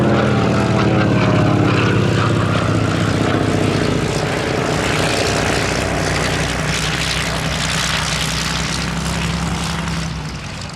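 A Lockheed 12A Electra Junior twin-engine propeller aircraft flies at the Duxford Battle of Britain Airshow 2023, its engines droning loud and steady with a throbbing propeller tone that eases slightly toward the end.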